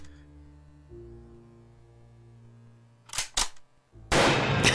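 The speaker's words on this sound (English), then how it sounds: "You couldn't resist shooting a clown in the ass." Gunshots fired at a clown in a horror video game's clown house, two quick sharp reports over a low electrical hum, then a sustained loud burst of noise.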